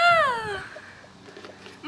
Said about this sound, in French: Il y a un chat sur le gazebo.